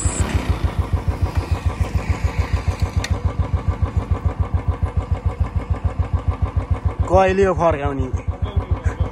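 A motorcycle engine starts and settles into a steady, thumping idle close by, its regular pulses continuing throughout while someone speaks briefly near the end.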